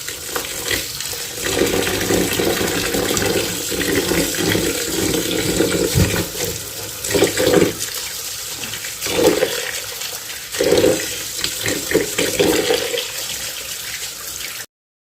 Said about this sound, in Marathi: तांदूळ स्वच्छ धुवून घ्यायचं.